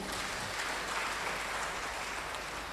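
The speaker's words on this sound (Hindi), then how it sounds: "आप लोग अपने लिए एक जबरदस्त ताली बजा लीजिए" A seminar crowd at a DXN motivational event applauds in a thick, steady wash of clapping, somewhat distant and even in level, with no talking.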